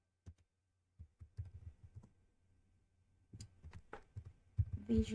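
Keys on a computer keyboard clatter in irregular bursts, sparse clicks at first, then a quicker flurry of close, soft taps.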